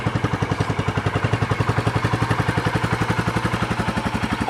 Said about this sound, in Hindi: ये उसकी स्टॉक साइलेंसर की जो साउंड है वो कुछ इस तरह है।